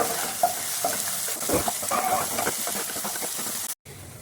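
Shallots and tamarind cooking in a pan on a gas flame, a steady close sizzle with scraping stir strokes throughout, ending in a brief cut.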